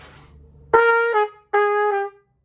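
Two bursts of tenor saxophone tone, each made of short, choppy notes cut off abruptly by the tongue touching the reed, separated by a brief silence, with faint room noise before them.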